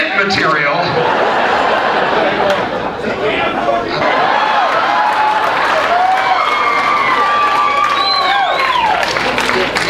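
Comedy club audience at a stand-up show in Chanute, Kansas, fills the room with steady, dense crowd noise of chatter, chuckles and scattered applause. The sound stays loud and continuous throughout, with voices and laughter layered over it.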